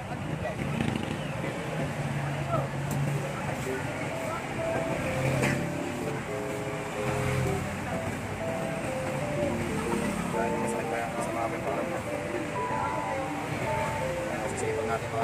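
Motor tricycle ride on a Philippine road, with steady engine drone and road noise running throughout at close range, while people chat over it.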